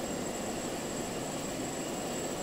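An airplane engine in the Just Cause 2 video game drones steadily, a loud continuous roar with a thin high whine that holds level throughout and has no voices over it.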